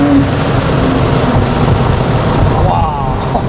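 A 600 hp Porsche with turbo lag pulls hard through the gears, a loud, continuous engine and road roar heard from inside the cabin while people talk over it.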